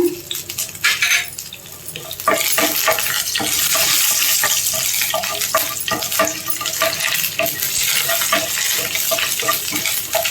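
Green chillies and curry leaves fry in a pan, crackling and sizzling close up under repeated scrapes and clinks of a spoon stirring against the metal, a busy steady sound with no talk.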